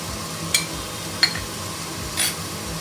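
Egg bharta with chilli powder and salt is stirred in a pan: three brief spatula scrapes spaced about a second apart over a faint background sizzle, with no voices.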